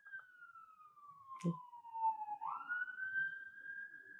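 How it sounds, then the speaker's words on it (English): An emergency siren approaches outdoors, its single wailing tone sliding down and then back up, loud and clear over a quiet background with a brief thump partway through. "I hear a siren coming."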